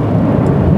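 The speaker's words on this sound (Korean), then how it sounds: "여기는 뭐 이렇게 저 비행기 소리가 많이 나?" Low, steady rumble of an airplane passing overhead, heard near a KG Actyon new-car launch and test-drive event in Pyeongtaek, continuous and fairly loud for under a second with no talk.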